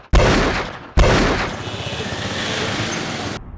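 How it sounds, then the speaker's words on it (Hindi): Gunfire from a car in a staged crime reconstruction: two sharp, loud bangs less than a second apart, followed by a sustained noisy rumble that cuts off abruptly. "उसके जवाब में कार में से गोलियां बरसने लगीं।"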